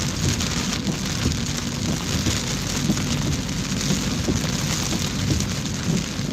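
Steady rain drums on a car during a road trip drive, a dense constant patter with no voices.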